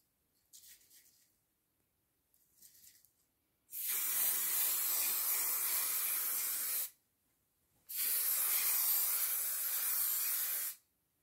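Talens gloss varnish sprays from an aerosol can onto a canvas in two long, loud, steady hissing bursts, each about three seconds, after a couple of faint short sounds.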